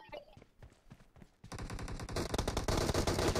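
Rapid bursts of PP-19 Bizon submachine gun fire in the PUBG Mobile game, sparse shots at first, then a dense, loud automatic volley building toward the end, with no talk over it.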